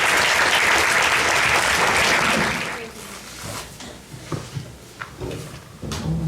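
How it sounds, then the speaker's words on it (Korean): An audience at a forum with bereaved Sewol ferry families gives warm, loud applause as two mothers are welcomed to the stage. Dense clapping fills the first few seconds, then thins to scattered claps, footsteps and shuffling nearby. "박수로 맞이하겠습니다."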